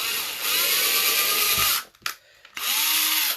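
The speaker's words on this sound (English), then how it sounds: "we are just going to drill right through" A power drill whines loudly as it bores through a piece of wood, cuts out briefly for a short pause, then starts up again with a rising whir.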